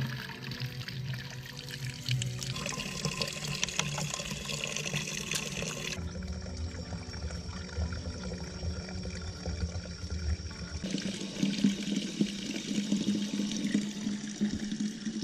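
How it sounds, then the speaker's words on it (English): Water runs steadily from an outdoor hot and cold tap beside a house, a continuous close pouring and splashing that shifts in tone as the flow changes, with no talking. "Hot and cold running water outside of the house."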